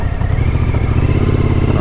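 A Suzuki V-Strom 1000 motorcycle is ridden on a Malaysian road, its engine making a steady, loud drone mixed with rushing wind noise.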